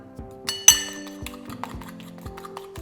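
Mashed banana being mixed for pancakes in a bowl, with a utensil clinking against the glass or ceramic in several spaced, ringing taps and a few soft scrapes, close and fairly clear, no talking.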